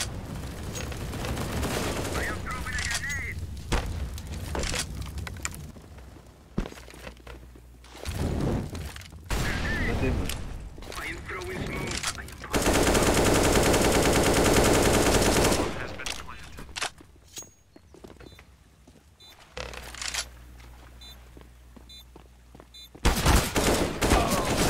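Video game gunfire in bursts and long automatic runs, with loud sustained rattling stretches and pauses between volleys; some speech mixed in.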